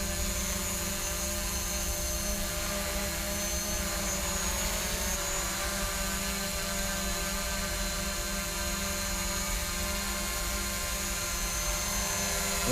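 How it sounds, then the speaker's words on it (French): A DJI Mavic Pro drone fitted with low-noise propellers hovers about two metres away, giving a loud, steady, whining propeller drone with a dense buzzing hum that holds level throughout, with no voices. "J'ai mis le drone à 2 mètres."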